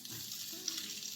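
Capsicum and onions sizzle in hot olive oil for Mediterranean breakfast beans, a brief, faint, even hiss of frying with no other sounds.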